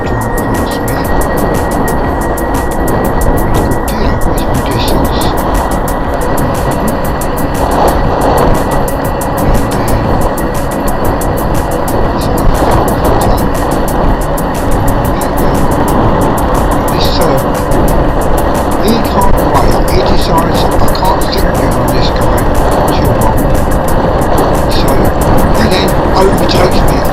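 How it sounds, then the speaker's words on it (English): Cars drive past at a road junction in a steady, loud wash of engine and tyre rumble that swells gently as vehicles pass close by. "a couple of cars will drive past me."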